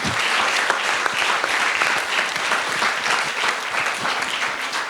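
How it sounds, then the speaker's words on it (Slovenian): Steady audience applause at a children's film premiere Q&A, a dense, even wash of many hands clapping at moderate loudness for several seconds with no talk over it. "mislim, da si vztrajnost in potrpežljivost zaslužite še en aplavz"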